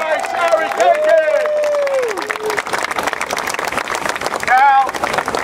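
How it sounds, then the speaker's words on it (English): Crowd at an outdoor political rally in Bay Ridge, New York, applauding and cheering for a council candidate, loud and close, with an announcer's voice over the noise and whoops rising near the end. "Let's have a great round of applause for your next councilman here, baby!"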